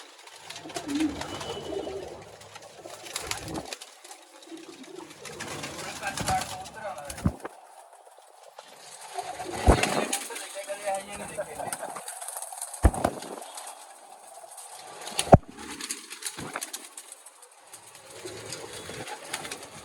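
Many pigeons coo at a busy bird market in Malerkotla, Punjab, their soft repeated calls rising and falling close by, joined by occasional wing flaps and a few sharp knocks.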